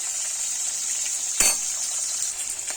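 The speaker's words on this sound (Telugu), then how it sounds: "వెల్లుల్లిపాయ, పచ్చిమిర్చి వేసుకొని వేగనివ్వాలి." Garlic and green chillies frying in a pan give a steady, bright sizzle, with one brief louder clatter midway as the pan is stirred or touched.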